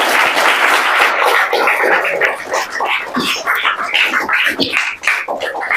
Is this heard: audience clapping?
yes